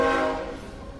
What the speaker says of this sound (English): here's a train coming by.